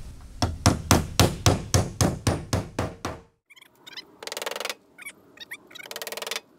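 Nails driven into wood with a hammer during a trailer conversion to build a rolling tool box: about a dozen sharp, evenly spaced strikes in quick rhythm, close and loud, followed by quieter scattered taps and scraping.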